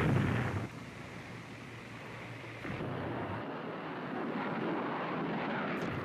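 Low, broad roar of U.S. military aircraft flying overhead during the Vietnam War air campaign, loud at the start then settling into a steady rumbling drone with no speech.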